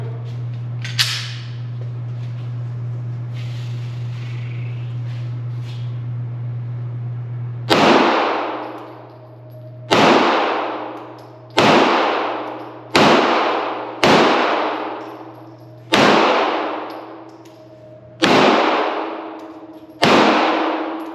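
CZ P-10C pistol fired at a range, eight sharp, loud gunshots at uneven intervals, each ringing out and decaying, preceded by a steady low hum and faint handling noise.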